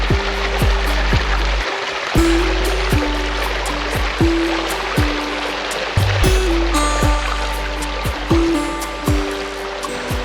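Water flows and trickles steadily nearby, a continuous babbling stream with a rhythmic low thumping underneath, no voices.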